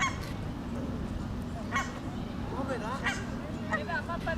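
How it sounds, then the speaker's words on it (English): Several Canada geese honk in short nasal calls, some overlapping, over steady low background noise at moderate distance. "Canada geese are an introduced species and considered by many as a pest."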